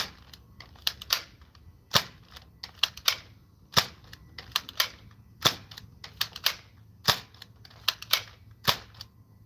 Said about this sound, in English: And of course, you can fire like so.